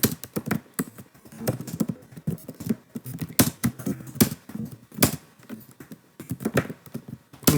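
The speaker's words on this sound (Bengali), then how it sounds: "সো আমি স্টার্ট করছি, দেখা যাক কয়টা ওয়ার্ড আমি লিখতে পারি পার মিনিটে" Rapid keyboard typing during a typing speed test, a close, steady run of irregular clicks and taps with brief pauses, no voices.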